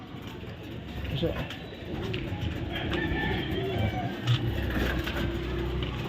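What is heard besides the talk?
pigeons cooing in a coop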